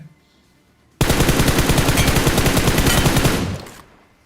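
M416 rifle fire in Battlegrounds Mobile India, one sustained automatic burst of rapid, evenly spaced shots lasting about two and a half seconds after a quiet start, then a short fading tail.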